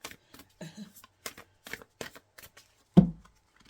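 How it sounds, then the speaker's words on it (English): Tarot cards being shuffled by hand: a run of quick, crisp riffling bursts close to the microphone, ending in one louder slap as the deck settles. "I had to pause the video because of my ridiculous shuffling and cards flying everywhere"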